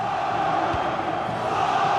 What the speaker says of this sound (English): the crowd are certainly responding to the good play that they're seeing